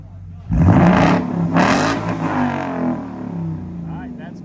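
A Ford Mustang GT (S550) with an SR Performance axle-back exhaust revs hard twice, loud and close, the deep roar swelling and then falling back to a rumbling idle as people talk nearby.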